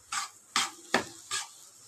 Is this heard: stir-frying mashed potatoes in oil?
yes